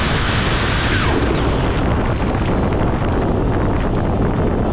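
A jet engine mounted on a bike roars hard after swallowing a zip tie and spitting fire, making a loud, continuous rushing blast with heavy wind buffeting on the microphone.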